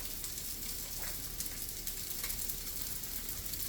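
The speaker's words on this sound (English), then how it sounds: "Now we're going to add the bacon to this." Bacon sizzles in a hot pan as it is added to a home-cooked meal-kit dish, a steady close crackle and spatter with no talking.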